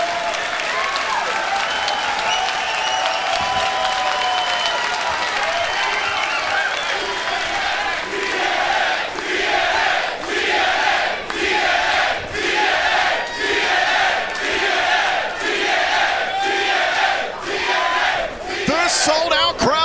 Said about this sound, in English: Sold-out crowd in Chicago showing their respect for this, our opening matchup